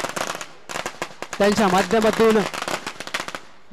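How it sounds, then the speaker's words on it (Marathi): Firecrackers burst in rapid, irregular sharp cracks during a celebration at a prize ceremony for the Bhavani Nagar cup, loud and close, with someone speaking over the popping in the middle. "हा मात्र फटाक्यांचा जल्लोष केला जातोय"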